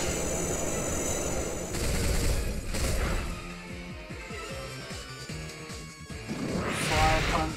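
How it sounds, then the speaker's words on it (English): Icicle Crash in Pokémon Y lands as a loud icy smash, followed by a rapid rattling run of shattering impacts and a bright chime at the end. "Icicle Crash."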